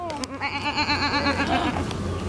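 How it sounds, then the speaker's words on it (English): A goat bleats in a wavering, drawn-out cry, close by and fairly loud, with outdoor background noise. "Friendly goat"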